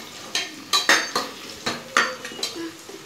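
Green chillies and browned onions stirred in a pan for prawn biryani, a series of sharp metallic scrapes and clinks of a spoon against the pan at an uneven rhythm, close and fairly loud, with no talking.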